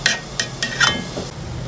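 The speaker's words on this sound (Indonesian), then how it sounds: "kita kena kacau-kacau selalu supaya dia tidak melekat di bahagian bawah, ya" Noodles being stirred in a pan while cooking Sabah-style Mee Papan: four clinking taps of a utensil against the pan at steady intervals, fairly close, with no talking.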